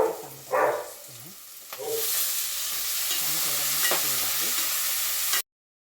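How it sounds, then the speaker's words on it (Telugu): Tomato pieces and green beans frying in hot oil in a home kitchen pan, a steady close sizzle with stirring scrapes and a few utensil clinks, brief voices heard early. "టమాటా ముక్కలు కూడా నూనెలో మంచిగా గోలాలండి"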